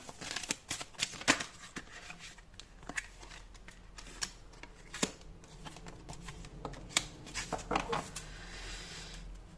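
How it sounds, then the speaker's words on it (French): Tarot cards being shuffled and drawn, a quiet run of scattered crisp flicks, taps and slides at close range, irregular and soft, with faint room tone between them. "Alors, je prends 2 autres cartes."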